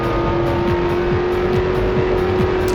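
A race car in the video game Test Drive: Le Mans revs hard and accelerates, a loud, steady engine drone with rising pitch sweeps as it shifts through gears.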